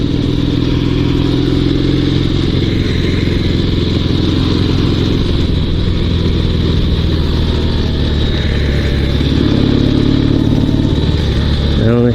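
Dnepr 16 two-wheel-drive sidecar motorcycle riding along a road, its engine a steady loud drone throughout with wind noise and a slight swell in revs toward the end.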